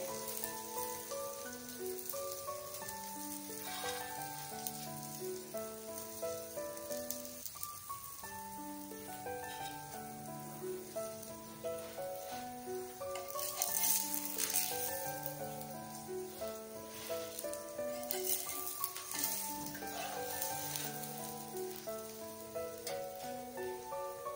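A bottle gourd ghavne pancake frying on a pan over a medium flame gives off a soft, steady sizzle and crackle, faint and continuous, under background music.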